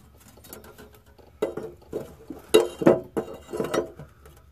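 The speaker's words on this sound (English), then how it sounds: "I'm just going to go real easy here with my big old wrench." A big wrench works a nut on the oil pan dipstick adapter of a 7.3 Powerstroke, giving a series of short metallic clicks and clinks in uneven bursts, close up with no talking.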